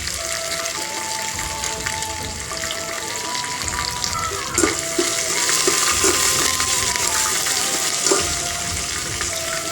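Curry leaves, peanuts and crushed garlic fry in hot oil for Davanagere-style crispy puffed rice, a dense continuous crackling sizzle with occasional louder pops and a brief clatter midway.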